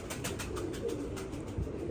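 Soft, low pigeon cooing repeats faintly against a steady background hiss.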